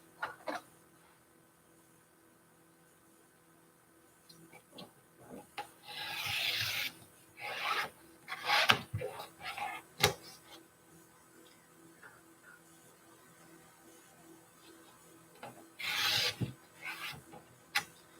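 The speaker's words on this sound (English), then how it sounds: "now that we have ironed our pieces of heat and bond onto each piece, we're going to use our rotary cutter" Rotary cutter slicing fabric pieces backed with ironed-on heat-and-bond, heard as several short scraping, rasping bursts against a cutting mat, separated by quiet pauses and small clicks, close and soft.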